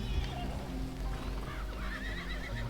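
A horse in the Red Dead Redemption video game whinnies in a short, wavering call, with soft hoof clip-clops and low game ambience beneath and no speech.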